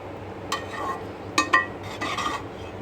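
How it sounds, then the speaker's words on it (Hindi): Utensil stirring vegetables into boiled rice in a pan on a low flame, with a few sharp metallic clinks and scrapes over a soft steady kitchen background. "अब हमने लो फ्लेम पे इस पे रख के और वेजिटेबल्स को मिक्स कर रहे हैं।"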